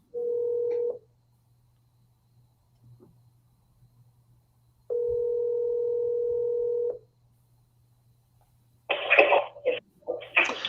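Telephone tones while dialing a call: a steady low hum runs throughout, with two long, loud tone bursts near the start and middle, then a rapid cluster of dialing beeps at the end.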